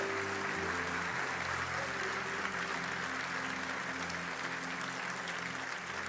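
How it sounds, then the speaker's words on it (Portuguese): A church congregation breaks into a long, steady wash of applause, many hands clapping together at a moderate distance with no voices on top, while a low sustained tone hums beneath. "dê um forte aplauso"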